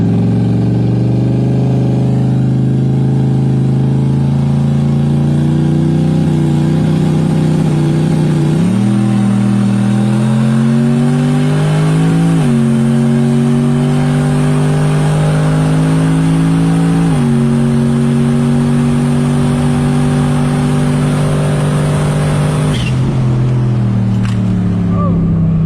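Turbocharged Chevrolet Silverado crew cab pickup accelerating hard down a street, its loud engine note climbing in pitch and dropping sharply at each of several gear shifts, heard close and continuous.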